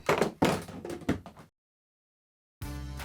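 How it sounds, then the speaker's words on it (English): Several heavy thuds strike a door in the first second and a half, close and loud, followed by silence and then a sustained musical tone. "Knock knock."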